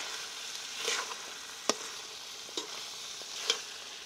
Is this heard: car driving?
no